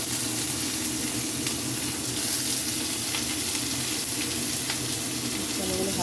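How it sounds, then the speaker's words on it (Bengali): Rice grains frying in well-heated oil in a wok, giving a steady, dense, close sizzling hiss that runs unbroken throughout with faint watery crackle. "তো এবার চালগুলো দিয়ে দিচ্ছি, এই যে চালগুলো কড়াইতে দিয়ে দিচ্ছি"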